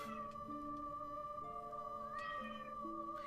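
A cat meows a few times in a fantasy video game scene, quiet and close, laid over a steady tonal music bed with held notes.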